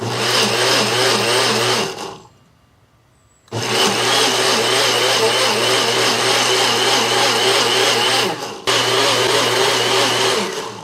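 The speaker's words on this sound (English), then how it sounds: "You just want to blend this till it gets smooth." A blender blending pineapple, mango, rum and ghost pepper hot sauce runs loud and steady, cuts out for about a second and a half, then whirs again with a brief dip near the end.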